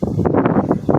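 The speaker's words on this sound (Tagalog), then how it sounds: "Lakas ng hangin no?" Strong wind buffets the microphone in loud, rumbling gusts that swell and dip over about a second.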